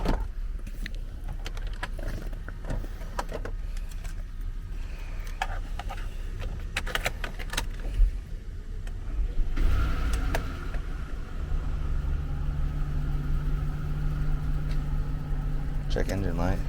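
A used smoker's car at a dealer-only auction is cranked and left idling, its steady engine hum running beneath people talking and handling keys nearby.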